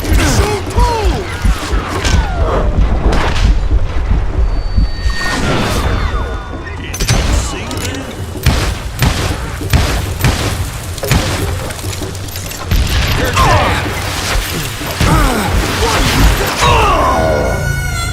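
Dynamite explosions in the video game Call of Juarez Gunslinger, a busy run of loud blasts and crashing impacts mixed with gunfire, close and dense throughout, with a voice shouting in between.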